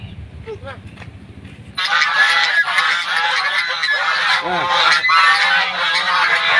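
A loud, dense chorus of many geese honking close by, continuous and overlapping, after a brief quieter stretch with low rumble at the start.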